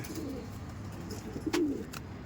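Andhra Madrasi tournament pigeons coo softly in a loft, with one clearer coo in the middle against a low, steady background murmur.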